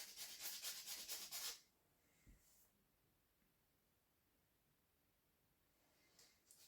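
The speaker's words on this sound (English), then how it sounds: "we're just sanding it off and making it smooth" Quick rhythmic scratching strokes of sandpaper sanding epoxy off a knife handle, close and faint, followed by quiet with a few soft rubs.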